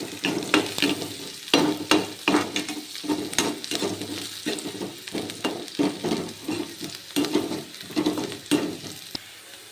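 Ingredients stir-fry in a pan for a pulav and gravy, a hissing sizzle broken by rhythmic bursts of spatula strokes, loud and close.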